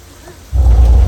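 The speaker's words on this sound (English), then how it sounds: "That rain is created by an elaborate sprinkler system above you." Simulated rain and deep thunder on the Universal Studios tram tour, showered by sprinklers overhead: quiet at first, then a sudden loud rumble and downpour that roar on steadily.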